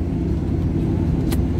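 A car cruising at around 80 km/h downhill on an Indonesian toll road between Jakarta and Banyumas, giving a steady, loud low rumble of engine and tyres with a brief higher whoosh near the end.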